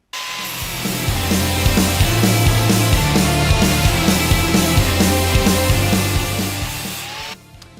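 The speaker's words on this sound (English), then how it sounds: "I've just got to give these a bit of a clean up with a flappy wheel" A flap wheel grinds and cleans up metal parts for a cast iron table saw mobile base, a loud continuous abrasive whir with rhythmic pulsing as the work is passed under it, close up, stopping abruptly at the end.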